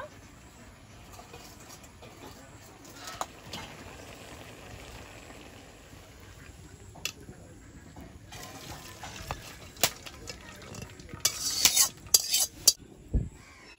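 Boiled banana flower is drained from a cooking pot: a soft trickle of water with metal clinks and scrapes, growing louder and busier toward the end, with no talk.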